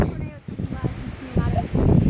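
Wind gusts buffet the microphone on a building rooftop in rough, blustery bursts, heard under and between people talking nearby.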